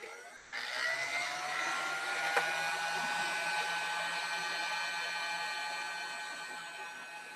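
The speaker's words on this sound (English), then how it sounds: "So I have to heat gun this one a little bit." A heat gun blows steadily while softening a sticker on the bottom of a mug, a continuous close-up whirring rush that starts abruptly and holds level, with one tiny click partway through.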